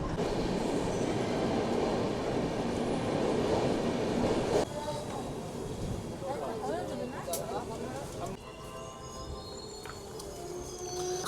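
Darjeeling Mail passenger train running, a loud steady rumble of wheels and carriage noise with rattling and occasional squeals, the roar dropping in level partway through as it slows on arrival.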